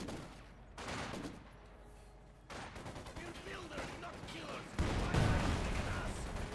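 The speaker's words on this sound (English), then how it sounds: "it's not called the light artillery, it's called a coordinated barrage" A coordinated artillery barrage in the strategy game Company of Heroes 2 rumbles and crackles through rolling gunfire and explosions, with a commentator talking over the battle noise.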